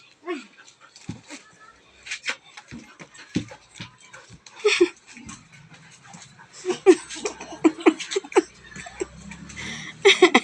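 A dog pants and lets out small whimpers and yips up close, with people talking intermittently in the background.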